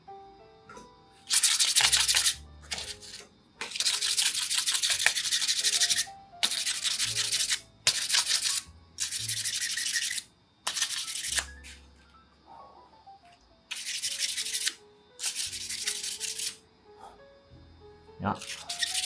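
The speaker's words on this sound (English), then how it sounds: "we do want to round over the side and this back upper corner of the nut" An acoustic guitar nut being sanded and rounded over at its side and back upper corner by hand, in bursts of close, scratchy rubbing separated by pauses in which people talk quietly.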